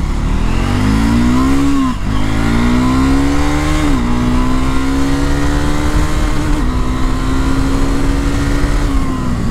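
A Triumph Scrambler 400 X motorcycle of about 40 horsepower accelerates hard on a highway, its engine note sweeping upward through several quick gear changes, loud and close with no talk.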